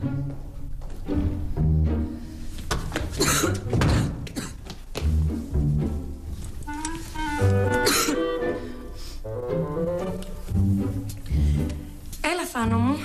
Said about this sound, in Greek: Κοντεύει να σου φύγει ο λαιμός από το βήχα.